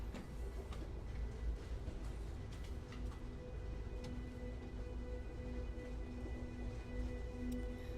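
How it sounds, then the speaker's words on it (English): A tram rolls steadily along rails in the Syberia The World Before video game, a continuous low rumble with faint rattling, quiet and unbroken throughout. "Okay, we're back on the tram."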